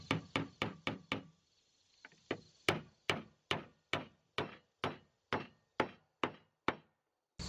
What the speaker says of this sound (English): Let's go ahead and come back and add the nail just to make sure it's nice and secure.